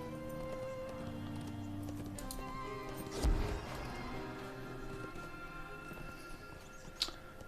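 Horse hooves clip-clopping in a video game, faint rhythmic footfalls under steady game music, with a sudden crashing thump partway through and a sharp hit near the end.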